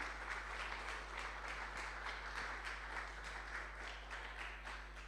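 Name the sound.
congregation applauding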